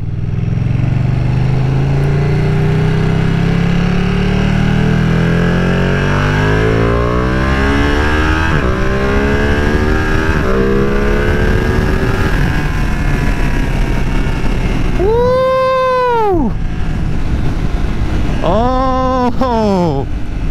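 A 2020 Ducati Panigale V2 motorcycle engine climbs loudly and smoothly through its rev range, then fires two quick, sharp throttle blips near the end.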